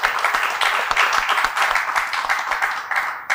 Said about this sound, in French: On applaudit quand même Bob.